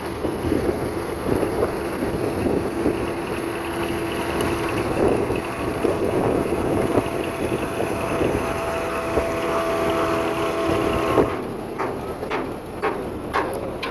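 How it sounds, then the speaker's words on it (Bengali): A speedboat bound from Bhairab toward Nabinagar races up from behind on the river, a steady loud engine drone mixed with water rush and wind buffeting, heard from aboard a launch, with a few sharp knocks near the end. "একটি দ্রুত গতিতে একটি স্পিড বোট আসছে পিছন থেকে"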